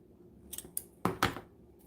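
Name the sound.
scissors cutting while making a wreath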